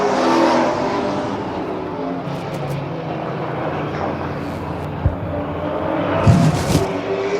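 Vintage race cars of the Palmetto Vintage Racing Club Association lap a short oval at Dillon Motor Speedway, their engines roaring loudly and continuously as a pack passes, with rising revs and a few sharp peaks near the end.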